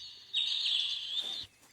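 A bird-sound ringtone on a Samsung SGH-X450 mobile phone, a single bright chirping trill lasting about a second, clear against near silence.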